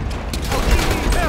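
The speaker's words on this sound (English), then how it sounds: "I'm shooting the middle." Gunfire in GTA V, a loud dense volley of shots with crashing effects, packed into a brief burst with speech mixed in.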